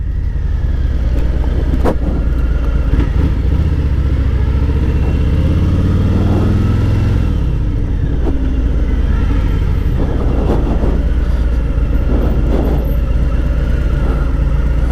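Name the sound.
Harley-Davidson 2018 Fat Boy motorcycle with 114 engine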